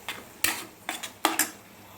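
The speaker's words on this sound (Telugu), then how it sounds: "చూడండి, దీన్ని ఇలా ఫ్రై చేసుకోవాలి మనం పచ్చివాసన పోయే వరకు." Masala for a stuffed brinjal curry is stirred and fried in a pan, with four or five distinct metal scrapes and clinks of a spoon against the pan over a faint sizzle, no talking.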